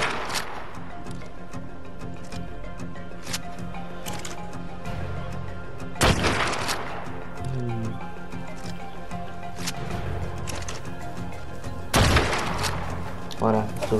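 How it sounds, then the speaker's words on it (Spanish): In the video game ARK, sharp gunshots crack out at irregular intervals, with two loud bursts standing out. Someone talks over the game sounds between the shots. "Lo voy a disparar"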